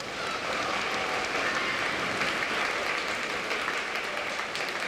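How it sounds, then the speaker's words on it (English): A high school Veterans Day assembly breaks into sustained applause, a thick, even wash of many hands clapping at once with no voices standing out. "Let's give all these folks a round of applause."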